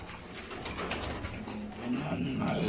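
Red checker pigeons give soft, low cooing calls close by, faint and intermittent against a quiet background.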